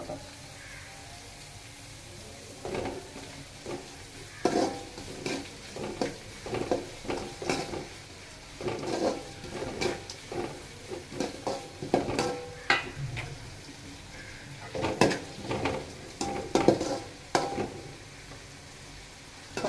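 Onions sautéing in a pan for a Chennai-style fish curry, with repeated stirring scrapes and soft sizzling in irregular bursts, close and moderately loud, with occasional faint voice in the background.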